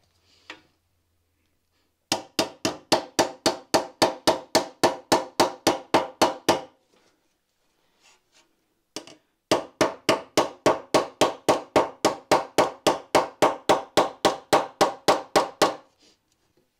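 Hammer striking a sheet-metal car body panel being formed with the rounded face of the hammer, two long runs of rapid, evenly spaced ringing blows, close and loud, separated by a short pause.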